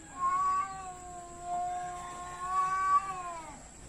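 Pumpum, a female cat, gives two drawn-out, clear meows close by, with a short pause between them and no one talking.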